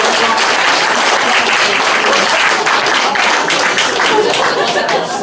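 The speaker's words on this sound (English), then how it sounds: "Round of applause for Nels." A debate audience applauds a speaker arguing for the motion, loud, dense clapping sustained evenly throughout with some chatter and chuckles underneath.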